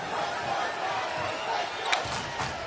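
Crowd noise at a college basketball game between Baylor and Oklahoma State, a dense, continuous roar of cheering from a large arena audience with a sharp bang near the middle.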